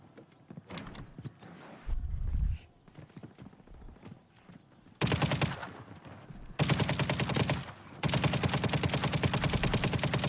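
Rapid automatic gunfire from a WSP-9 and an Uzi in Call of Duty, loud and close: short bursts at first, then long sustained volleys of fast shots.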